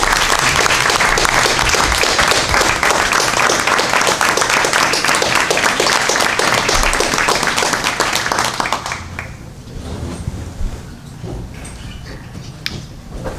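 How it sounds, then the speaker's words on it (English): Room of attendees at a school board of education meeting giving a loud, sustained round of applause that ends abruptly after about nine seconds, leaving quieter room noise with a few stray sounds. "So I'd ask everyone, please, to give Kevin an outstanding round of applause."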